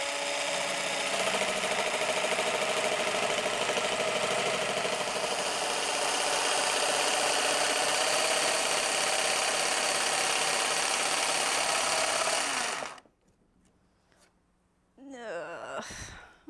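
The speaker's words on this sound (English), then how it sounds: "I'm probably gonna bump the heel of the plate of my jigsaw into this clamp" A jigsaw cuts an arc in a wooden board for a bathtub caddy. It makes a loud, continuous, close buzz that stops abruptly near the end, followed by a few quieter handling sounds.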